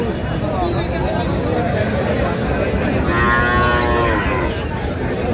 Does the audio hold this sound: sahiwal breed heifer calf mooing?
yes